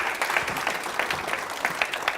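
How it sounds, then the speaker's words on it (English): An audience applauds as a volunteer comes up, a brief, moderately loud burst of many hands clapping that holds steady for a couple of seconds. "Give him a round of applause."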